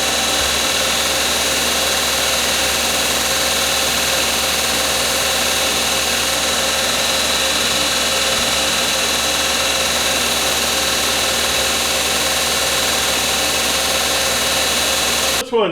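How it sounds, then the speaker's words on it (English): A bench grinder puts a 15-degree angle on the ends of hand-forged marking knives, a loud steady whine and hum holding unbroken and close for the whole stretch before cutting off at the very end. "I want to put about a 15-degree angle on the end of these, and I'll do that with the grinder"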